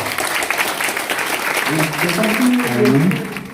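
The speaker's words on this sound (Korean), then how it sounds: "자축하는 박수를 다시 한번 쳐보죠." Meeting attendees at a party campaign committee's disbandment ceremony in an Incheon conference room clap for themselves, a brief burst of close, steady applause with a voice speaking over it near the end.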